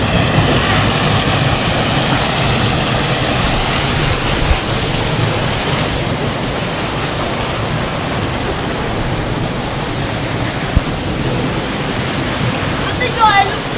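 Rushing water at the first tier of a waterfall where children play, a steady broadband roar that stays loud and close throughout, with faint voices mixed in underneath.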